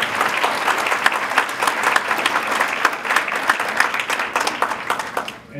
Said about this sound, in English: I just want to give you a quick round of applause